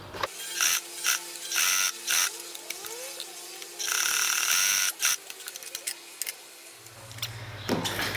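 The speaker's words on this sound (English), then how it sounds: "Well, the machine's working now." Vintage PFAFF sewing machine running after repair: bursts of rapid mechanical clattering and ticking from the needle mechanism, stopping and starting, close and fairly loud, with a low hum near the end.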